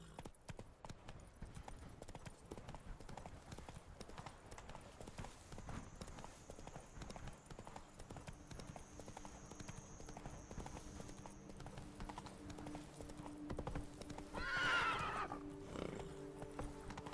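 A horse galloping in The Witcher 3, a fast, steady clip-clop of hooves throughout with a whinny near the end, over a continuous game soundscape.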